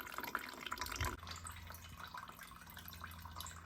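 Stale fuel trickles and splashes from a Honda CG125 into a bucket, a steady liquid pour that is louder at the start and then settles into a softer continuous stream.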